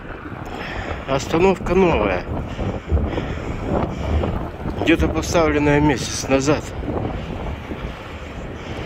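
Strong gusty wind in Novokuznetsk after a hurricane, a constant broadband roar buffeting the microphone throughout, with people talking over it.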